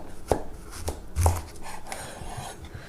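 Knife cutting a curved carrot or zucchini down the middle on a board, a few sharp close knocks and thuds with soft scraping in between, heard alone without talk.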